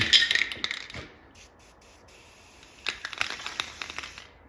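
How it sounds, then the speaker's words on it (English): Black spray paint hisses from a nearly empty aerosol can onto freshly ground metal edges during an arcade cabinet restoration, a short close burst at the start, then a quiet gap before another round of faint spraying and light tapping. "there's a little tiny bit of black left in one of these spray cans here, just to hit those edges of that metal that I ground down"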